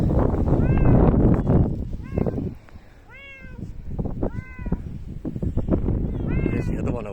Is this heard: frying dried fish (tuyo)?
no